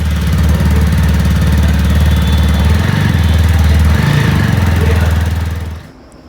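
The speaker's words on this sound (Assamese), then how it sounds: "বাকী তোমালোকক মই ইয়াৰ ইঞ্জিনৰ চাউণ্ডটো শুনাই দিওঁ।" The engine of a newly delivered motorcycle runs steadily for several seconds with an even, throbbing idle close to the microphone, then cuts off and goes quiet at the end. No one speaks over it.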